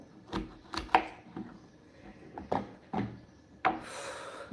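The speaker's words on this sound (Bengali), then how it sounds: "এই যে আমার সবজি কাটা হলো" Vegetables chopped with a knife on a cutting board, sparse irregular knocks and scraping strokes, close and moderately loud, with quiet pauses in between and no speech.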